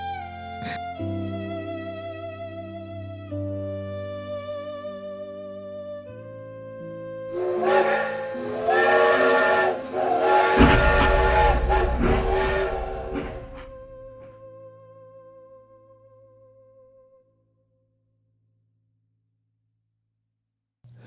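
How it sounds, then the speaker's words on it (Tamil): A steam train whistle sounds in long sustained tones as a train draws closer and rumbles loudly through the middle, then fades to silence. "ரயில் வண்டியோ நெருங்கிவிட்டது"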